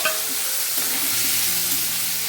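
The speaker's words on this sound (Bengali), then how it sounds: "এবারে সেদ্ধ করে রাখা শুটকি মাছগুলোকে ভেজে নেওয়া হবে।" Boiled dried fish (loitya shutki) frying in hot mustard oil in a kadai, giving a steady loud sizzle and crackle with the soft scrape of stirring underneath and no voices.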